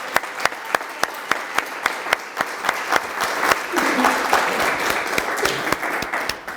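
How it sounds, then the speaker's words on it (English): An audience gives a round of applause at a small business week ceremony, with steady, dense clapping that swells slightly midway and runs alone without speech. "I'd like to give a round of applause again to Meghan Kearney."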